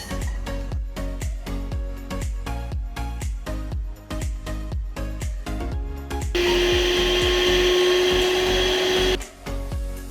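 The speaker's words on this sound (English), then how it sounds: "You have to keep blending it until it becomes fluffy and foamy." Dalgona coffee mixture of three ingredients being whipped with a hand whisk until fluffy and foamy: a fast run of rhythmic thumping beats, then a few seconds of steady loud motor whir before the beating resumes.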